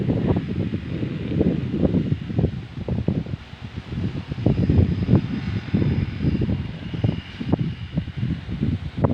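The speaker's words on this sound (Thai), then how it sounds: "ลมเย็นดีเลยนะฮะ" Cool wind blows steadily through a rubber plantation, a continuous breathy rush with gusty swells and rustle, fairly loud and close, with no talk.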